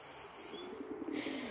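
Domestic pigeons cooing close by, a soft low warbling coo that swells and pulses toward the end, with a faint airy background.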